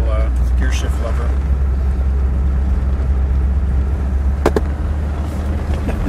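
A 1959 Edsel Corsair Convertible idles with a steady low rumble, heard close and loud alongside brief sharp clicks and a light background of talk.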